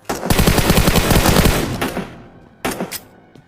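Rapid automatic gunfire from a mobile battle royale game rattles loudly in a long burst, fades out, then a short second burst follows after a brief pause.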